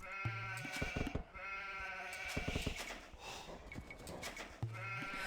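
Sheep bleat in an Age of Empires match, several loud, close calls spread across the stretch with game sounds in between and no talk.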